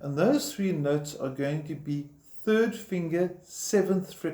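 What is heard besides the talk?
None of the usual background noises is heard.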